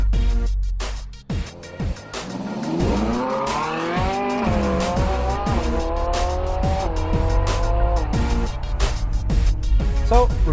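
A Ferrari 458's naturally aspirated 4.5-litre V8 revs up through the gears from inside the cabin, rising wails broken by quick upshifts, loud and close over a steady road roar.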